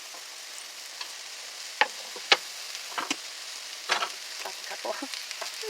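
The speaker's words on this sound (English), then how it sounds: "now that our oil is nice and hot, I'm going to throw in our sliced mushrooms" Sliced mushrooms frying in hot oil, a soft steady sizzle with scattered pops and a few sharp clicks of stirring, close by, with a brief bit of talk.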